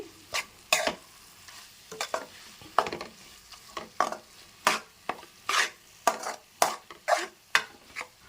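Leafy greens fry in a pan while a spoon stirs and scrapes in a quick, repeated rhythm, each stroke a sharp close scuffle over a faint sizzle, with no talking.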